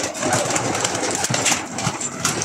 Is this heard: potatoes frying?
no